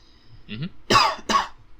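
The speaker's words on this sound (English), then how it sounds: "sorry, I coughed." A person coughs twice in quick succession, close and sharp, preceded by a brief throaty sound.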